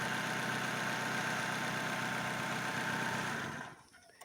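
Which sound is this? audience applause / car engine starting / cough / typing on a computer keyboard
car engine starting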